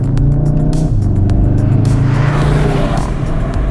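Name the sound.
Volkswagen Golf 7.5R car driven on a race track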